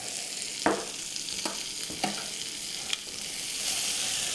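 Shallots and garlic sizzle in a pan with bacon, a steady soft frying hiss broken by a few sharp scrapes and taps of a utensil stirring; quiet and close, with no talk.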